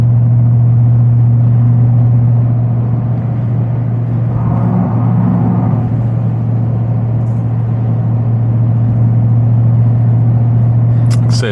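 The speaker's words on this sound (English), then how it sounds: "When you do give some gas, though, is when it will kick in." A lowered, supercharged Ford F-150 pickup drones along with a steady, loud low engine hum inside the cab, swelling slightly midway as it picks up speed, with a voice talking over it.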